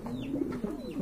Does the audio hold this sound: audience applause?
no